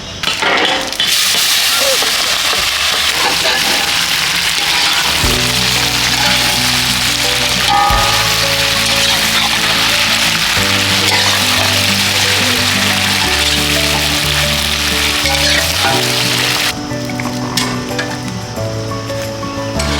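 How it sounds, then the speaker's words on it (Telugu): Mixed vegetables fry in a pan of hot oil with tempering spices for a village-style sambar rice cooked in a coconut grove, a loud continuous hiss and sizzle lasting throughout under steady background music. "మిక్స్డ్ వెజిటేబుల్స్ వేసేద్దాం."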